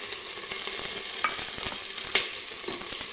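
Masale bhat with freshly added ginger garlic paste frying in a pan, a soft continuous sizzle with a couple of brief sharp scrapes or clinks from stirring.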